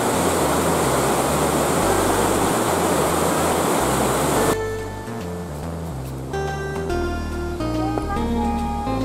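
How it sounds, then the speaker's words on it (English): A small, rapidly flowing mountain stream on the way to Koyasan, Japan, rushes in a steady, loud broadband wash that continues throughout, slightly quieter and more textured in the second half. "We found a little nice, rapidly flowing stream here."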